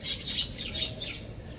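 An agitated white-breasted waterhen (dahuk) chases other birds away, giving a run of repeated bright chirps and squawks, close and fairly loud, with a soft steady background beneath.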